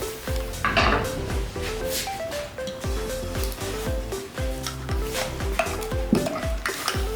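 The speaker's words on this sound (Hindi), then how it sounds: "चावलों का पेस्ट अभी हम इसमें ऐड करेंगे दूध में।" A metal spoon stirs rice paste into boiled milk for kheer, clinking and scraping rhythmically against the pot with a light bubbling underneath, close and continuous.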